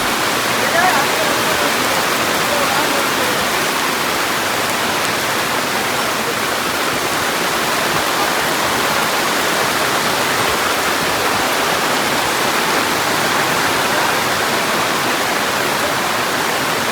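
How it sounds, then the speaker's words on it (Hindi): Heavy rain with hail on the Kedarnath trek, a dense, steady roar of downpour with no let-up, loud and close, like water pouring hard onto the ground and surfaces. "देख लो बारिश कितनी तेज़ हुई और साथ में ओले गिरे"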